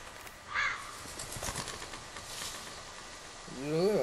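A crow caws a few times in The Walking Dead video game, set in the woods, with a harsh call early on and another louder, rising caw near the end over faint ambient background.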